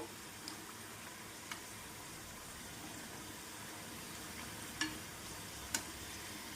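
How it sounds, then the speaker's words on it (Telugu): Chandamama biscuits made with wheat flour and jaggery fry in a pan, turned and stirred on both sides, giving a steady low sizzle with a few faint scrapes and no voices. "రెండు వైపులా ఇలా కలుపుతూ తిరిగేస్తూ వేయించుకోండి"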